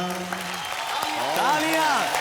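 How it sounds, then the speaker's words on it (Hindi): Studio audience applause on a Hindi television game show, a steady wash of clapping with a voice talking and singing over it throughout. "तालियां।"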